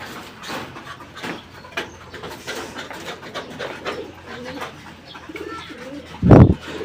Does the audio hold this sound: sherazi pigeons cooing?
yes